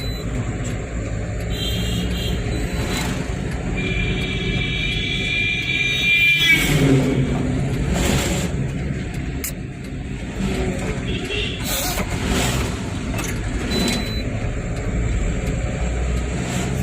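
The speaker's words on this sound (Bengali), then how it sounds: "পরপর গাড়ি আইতেই আছে।" Vehicles passing one after another on a busy road, a continuous loud traffic rumble with swells as each passes close by, occasional horn-like tones over it, no clear talk.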